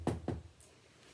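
Two quick knocks on a door in a Little Red Riding Hood puppet story, sharp and close together, followed by a brief hush.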